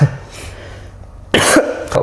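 Two short, harsh coughs from vaping, close to the microphone, one then another a moment later, after a quiet pause with no talking.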